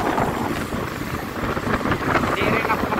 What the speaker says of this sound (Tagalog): Malakas din yung hangin.